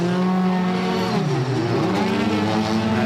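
TCR race cars leave pit lane at Michelin Raceway Road Atlanta during an endurance race, with loud engines revving and shifting, pitch rising and falling as the cars pull away close by.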